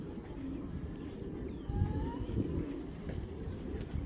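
A male Belgian racing pigeon coos softly and faintly, a few low throaty coos over quiet background noise.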